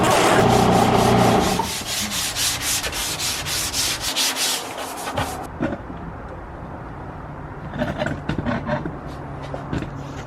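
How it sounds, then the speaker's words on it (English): Sandpaper rasps over a fiberglass fender from a 1973 Baja Beetle in loud, rapid back-and-forth strokes that die away around the middle, then return as softer, scattered scrubbing passes. "I got it sanded down"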